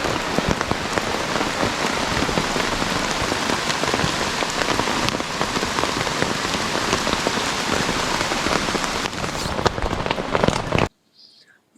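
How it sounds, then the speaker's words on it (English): Steady morning rain patters densely on a taut tent roof overhead at a campground, a loud continuous crackling drumming that stops abruptly near the end. "here's the sound of the rain in the tent at 8:30 something in the morning"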